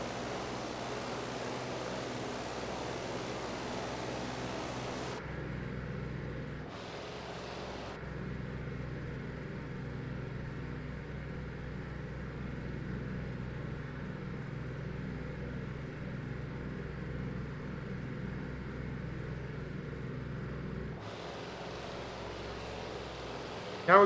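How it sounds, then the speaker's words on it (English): A Ju 52 plane engine drones in a flight simulator game as a steady, even hum that continues throughout, fairly quiet, with the sound briefly dipping and shifting twice, and no talk. "This plane's engine can be quite quiet."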